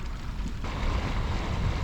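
Steady wind roars over a boat as it heads out of a marina, a broad rushing wash with low buffeting that grows a little stronger partway through and continues unbroken.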